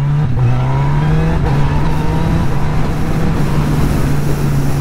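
Engine of a 2023 Honda CB1000R motorcycle accelerating hard with quick-shifter gear changes, a loud continuous close-up drone whose pitch climbs and briefly dips at each shift, with wind noise throughout.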